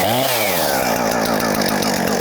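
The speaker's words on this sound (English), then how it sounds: "Really loud on your ears when you got the chainsaw like right close to you" A chainsaw on an Alaskan chainsaw mill revs up and then runs loud and close, a harsh continuous buzzing whine with no pauses.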